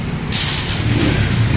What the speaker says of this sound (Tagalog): subukan natin yung ano niya, yung tunog ng makina niya